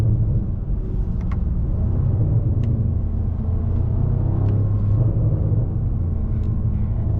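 A 500+ hp BMW M550i driving through the Cajon Tunnel, its exhaust giving a deep, steady, echoing rumble from inside the car with a few faint sharp pops over it.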